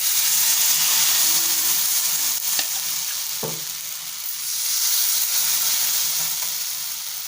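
Rava dosa batter sizzles on a hot dosa pan, a steady, close hiss of frying that fills the whole stretch, broken by a couple of faint knocks and swelling slightly toward the end.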